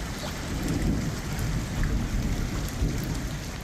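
Heavy rain pours steadily over flooded city streets during a storm, a dense constant hiss with low rumbling underneath, unbroken throughout.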